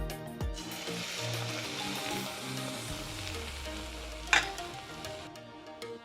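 Malpoa, sweet pancakes made from leftover rice, frying in hot white oil in a kadai, a soft, steady sizzle with a low hum and a brief sharp clink partway through.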